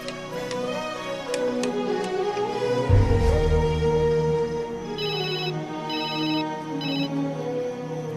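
A telephone rings repeatedly with an electronic trill, the rings recurring in short bursts over a low background hum.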